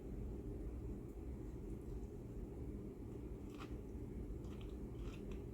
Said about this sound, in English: Do y'all hear it crunching when I bite it and chew it?